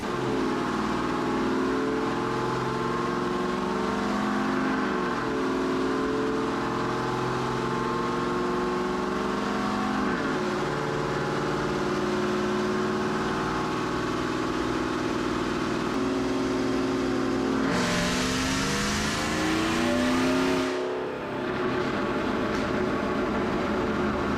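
A car with a Magnuson 2300 supercharger and full exhaust on a dyno, its engine droning loud and steady through rising pulls, with a sharp surge of intake and exhaust roar near the end before easing off.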